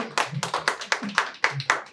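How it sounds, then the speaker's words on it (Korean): Youth Bible school workshop group clapping for a correct quiz answer: a close, rhythmic series of about eight sharp, evenly spaced claps in unison. "박수 한번 주시죠"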